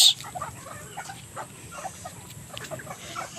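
Native chickens cluck softly and intermittently while feeding nearby, scattered short calls over a low background bustle.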